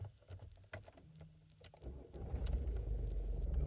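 A Volkswagen Lupo 3L diesel running on 80% waste vegetable oil cold-starts after a few clicks and a short cranking whir, then catches into a loud, steady low idle.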